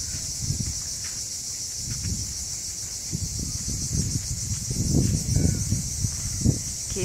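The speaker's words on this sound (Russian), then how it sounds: "Послушайте немножко, какие громкие цикады." Cicadas drone loudly and continuously in a high, steady buzz in Beldibi, Kemer, Turkey, with intermittent low rustles and bumps underneath.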